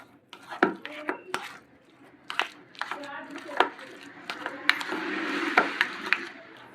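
Chaat masala is stirred together with green chili–mint chutney and coriander in a bowl, producing close, irregular scraping and clinking of a spoon against the dish, with a faint voice heard briefly.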